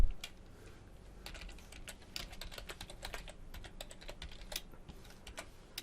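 Code being typed on a computer keyboard makes a quick, irregular run of close, crisp key clicks that keeps going throughout, with no speech.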